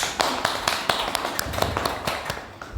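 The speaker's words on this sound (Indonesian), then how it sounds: "Mungkin bisa diberikan tepuk tangan dulu" A small audience gives brief, sparse applause during a campus student-organization podcast event, with individual claps standing out close by in an uneven rhythm.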